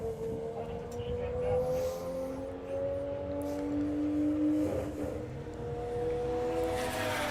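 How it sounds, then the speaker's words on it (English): A street car's engine at an outdoor car show drones loudly and steadily as the throttle is feathered, its pitch wavering up and down, with crowd noise in the background. "Feathering the throttle there"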